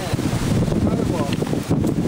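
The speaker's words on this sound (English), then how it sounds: "So fucking windy up here" Strong wind on the Huanghuacheng section of the Great Wall near Beijing buffeting the microphone in a constant low roar, with gusts rising and falling.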